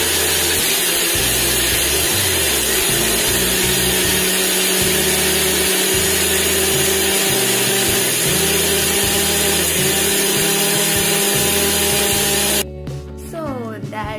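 A kitchen blender whirring loudly and steadily while mixing a strawberry banana milkshake for about twelve seconds, the motor droning close up before it cuts off and a few clatters follow.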